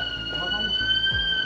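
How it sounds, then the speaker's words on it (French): An alarm rings inside an abandoned amusement park, a steady high electronic tone held throughout, with voices talking underneath. "une deuxième alarme se déclenche, mais celle-là, beaucoup plus proche"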